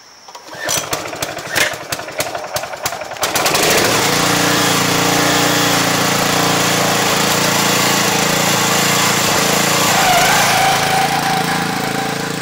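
A Billy Goat lawn aerator's small lawnmower-type engine clatters and sputters through a few seconds of starting, then settles into a loud, steady, close droning run.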